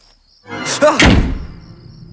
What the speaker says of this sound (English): For this door slam, I actually mixed 3 separate door slams into one to give it a full sounding slam sound